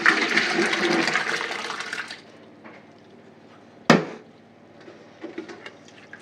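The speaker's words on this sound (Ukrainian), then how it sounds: "зливаємо воду." Water drained from a pot of boiled honey mushrooms pours out in a heavy rushing stream for about two seconds, then trickles and drips, with a sharp clank of the pot partway through.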